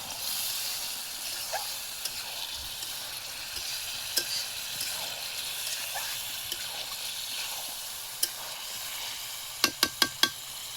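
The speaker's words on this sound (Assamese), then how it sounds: "মছলাৰ লগত ধুনীয়াকৈ ইয়াক ভাজি ল'ব লাগিব" Chicken frying in masala in a pan gives a steady close sizzle and hiss for several seconds, with occasional stirring clicks and a quick run of sharp scrapes near the end.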